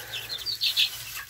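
A chicken on a farm makes a few short, high clucks and chirps in quick succession, close and fairly clear over a quiet background.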